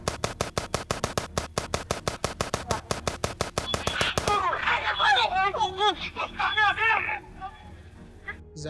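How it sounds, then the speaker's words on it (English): Rapid bursts of close, loud gunfire from a police shootout inside a house, a fast regular volley for about four seconds, then shouting voices take over with occasional sharp noises beneath. "Shots fired!"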